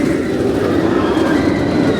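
Steady rumble of a theme park ride train at Thorpe Park during Fright Nights after dark, a continuous loud wheel roar with faint squeal for two seconds and no talking.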